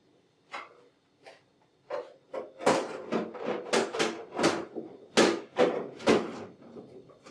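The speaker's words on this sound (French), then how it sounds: "Réinstaller la poubelle." A waste bin is refitted into an Emblem machine during routine cleaning and maintenance, giving a string of close, hollow plastic clunks and knocks that grow busier and louder as it is pushed into place.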